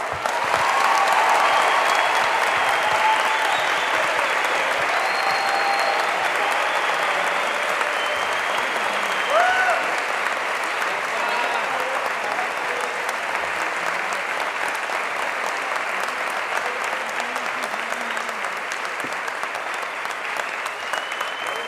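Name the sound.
audience applause welcoming a speaker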